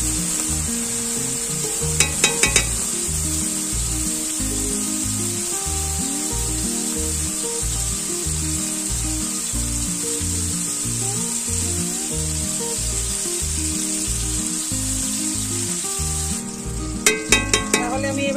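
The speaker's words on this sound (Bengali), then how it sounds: "একটু ভাজা ভাজা হোক।" Shrimp coated in turmeric and salt fry in hot oil in a pan for lau chingri, a loud continuous sizzle close by with a few brief metallic scrapes of stirring near the start and end.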